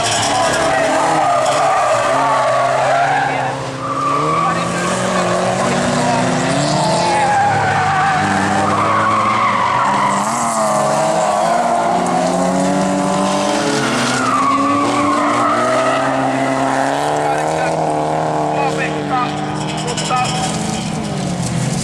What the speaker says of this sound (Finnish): Nyt lähti Karilla auto.